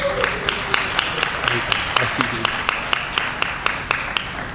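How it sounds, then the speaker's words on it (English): Small audience at a city budget engagement roundtable applauding two alders, a thin, evenly paced run of separate hand claps under a brief spoken remark. "Can you give them a round of applause?"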